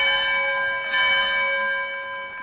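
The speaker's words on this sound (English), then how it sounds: "I shall ring this bell." A bell is struck once and rings on in a clear, sustained tone with steady overtones that slowly fade, loud and close with nothing else heard.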